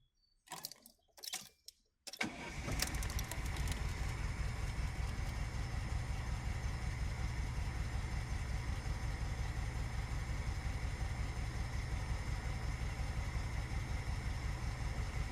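A VAZ car engine with a DAAZ carburetor, its ignition timing being adjusted, settles into a steady, even idle after a few seconds of clattering and handling noises, running close and continuously with no talk.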